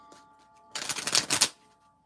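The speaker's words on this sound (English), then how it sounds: "Let's shuffle, let's shuffle." Tarot cards being shuffled, a dense burst of papery riffling and flicking that lasts under a second, close and fairly loud after a quiet start.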